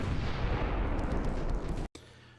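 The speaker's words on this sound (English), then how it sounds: "Both battleships ran out of their big gun firepower and just really were taking little pingy shots at each other" Battleship gunfire in the naval game Ultimate Admiral: Dreadnoughts, set in 1902, a dense loud rumbling barrage of shots that cuts off abruptly near the end, leaving a low hum.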